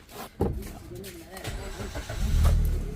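A Maruti Suzuki Baleno with a pickup problem, an acceleration drop and a P0420 fault code cranks and starts, then settles into a low running hum, while people talk close by.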